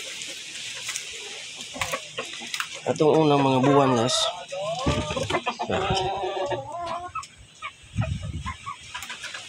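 Chickens cluck and squawk nearby, loud and busy, while someone talks over them.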